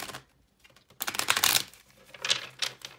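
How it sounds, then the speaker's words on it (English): A tarot card deck being shuffled, with bursts of crisp riffling and fluttering card noise separated by brief pauses, close and moderately loud with no talking. "Let's get a few shuffles in here."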